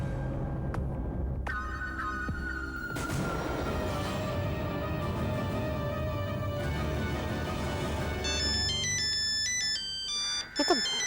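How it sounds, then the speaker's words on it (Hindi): An electronic phone ringtone plays a repeating melodic pattern, loud and close, over a steady background drone. "ये तो घर से फोन है।"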